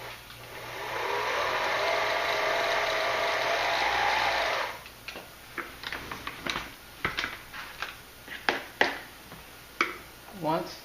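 A sewing machine winding a bobbin gives a steady, even whir for about four and a half seconds, then stops and gives way to a series of light clicks and mechanical handling taps.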